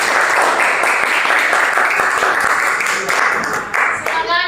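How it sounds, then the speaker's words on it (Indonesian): Classroom applause for a student group before a presentation, with dense, steady clapping from many hands throughout, fading slightly at the end, with voices mixed in. "Beri aplaus untuk kelompok Miranda"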